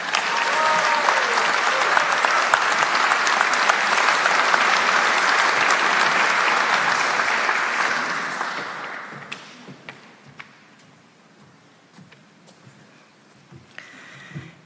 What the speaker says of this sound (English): can we give a big round of applause to the chairperson of our board, Associate Professor Dr. Te Wila Percival.